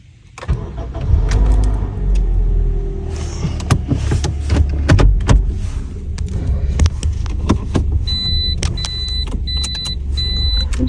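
A car engine cranks and catches, then idles with a low throb inside the vehicle, followed by a few short repeated electronic chimes.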